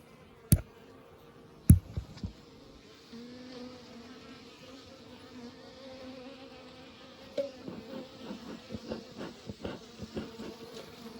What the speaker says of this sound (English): So I'm going to shake these bees off.